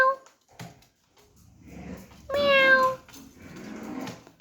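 A person imitates a cat's meow with a drawn-out voiced mew in the middle, near and moderately loud, surrounded by brief bits of talk.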